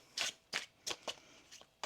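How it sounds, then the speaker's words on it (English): Tarot cards are shuffled by hand in about six short, crisp riffling bursts, evenly spaced and close up, with quiet gaps between them. "One more shuffle here, please, and thank you."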